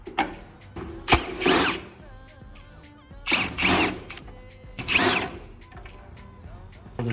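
Screws come out of a LiftMaster garage door opener under repair for a clicking motor and strobing light: several short, sharp mechanical whirring bursts with quiet pauses between them, close and distinct.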